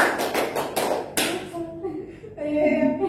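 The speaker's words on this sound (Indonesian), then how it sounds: "tepuk 2, tepuk 3, tepuk 4, tepuk 5, tepuk 3" Hands clap in a group counting game, several sharp claps in quick rhythmic succession followed by voices speaking after the clapping stops.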